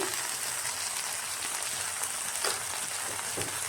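Achar frying in oil in a pan gives off a steady, soft sizzle and crackle with a few louder pops, heard alone.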